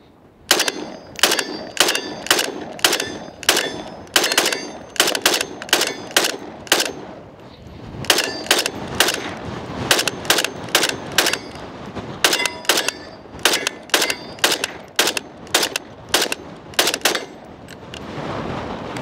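A Springfield Armory Hellion rifle fires repeated sharp shots in quick bursts and paired strings, loud and close, with short pauses between groups of rounds and no talking.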